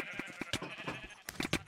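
Several short sheep bleats from a Minecraft game, clustered in a quick irregular run, close and clear with no talking over them.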